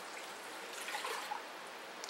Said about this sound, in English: The first thing I'm going to add is one can of Swanson beef broth.